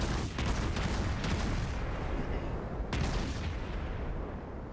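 Warship guns firing shells in a naval battle game, a dense rumbling barrage of booms that merge into a continuous roar with a sharper blast near the three-second mark, loud and close.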